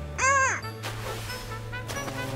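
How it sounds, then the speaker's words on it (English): A cartoon seagull gives a single loud, bright, wavering squawk near the start, followed by a quieter musical background. "Hello, seagull."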